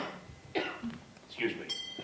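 A short cough in a radio-theatre parody, attributed to sea mist around an island, heard as a couple of brief throaty bursts from a nearby voice amid spoken dialogue.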